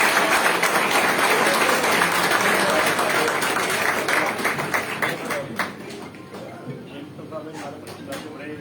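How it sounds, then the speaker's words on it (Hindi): Audience applause welcoming new members joining the BJP at a party induction event, a steady dense wash of clapping that gradually thins and fades toward the end. "आप एक बार जोरदार तालियों से हमारे सभी साथियों का अभिनंदन करें।"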